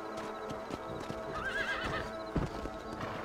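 A horse whinnies in a rising, wavering call over steady hoof clip-clops and a busy Red Dead Redemption game background, with a heavy thump near the end.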